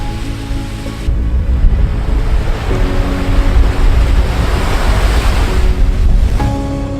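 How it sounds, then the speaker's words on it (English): Ocean waves wash onto a Thai island beach in a loud, steady roar of surf, rising and falling as they break, with no voices. "I can hear the ocean."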